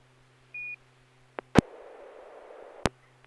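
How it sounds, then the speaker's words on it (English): Radio tail squelch on an amateur SSTV net: a short tone, then two sharp clicks that burst open a brief hiss of static before another click cuts it off, over a quiet hum. "Kind of a funny tail squelch,"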